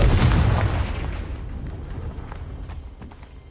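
A Confringo blasting spell explodes in the Hogwarts Legacy video game, a loud, deep boom at the start whose rumbling debris and crackle decay gradually over the following seconds, with no voices.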